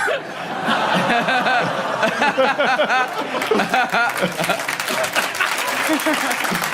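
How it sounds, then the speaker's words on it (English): A studio audience at a British topical comedy show gives a scattered round of applause mixed with chuckles and laughter, while a voice talks over the clapping throughout. "That was such a grudging round of applause from the audience."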